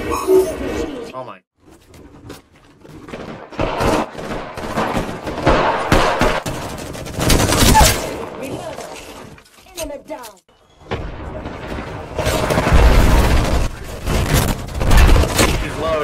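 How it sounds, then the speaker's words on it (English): Enemy gunfire and frag-shell explosions fill a chaotic shooter video game, with repeated bursts of shots and booms spread across the clip. A player talks over much of the action. "The enemies are shooting at me."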